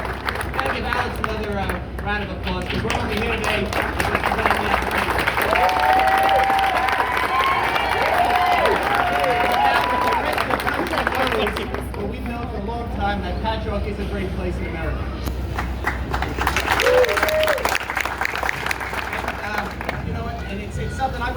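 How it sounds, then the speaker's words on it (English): A crowd gathered at a public civic event in Patchogue, New York, applauds and cheers, a long continuous wash of clapping with voices and shouts mixed in, loud and sustained throughout. "Another round of applause"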